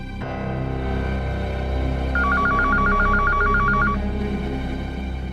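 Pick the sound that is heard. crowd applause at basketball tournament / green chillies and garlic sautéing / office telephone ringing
office telephone ringing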